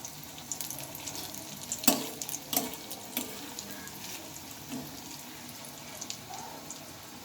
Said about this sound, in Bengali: এগুলোকে একটু উল্টে পাল্টে ভেজে নিতে হবে